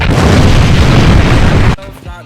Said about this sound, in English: TJ, cue explosion.